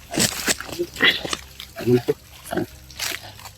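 Pigs grunt and snort repeatedly close by, mixed with people talking and some sloshing noise.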